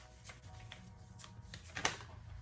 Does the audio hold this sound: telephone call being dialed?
no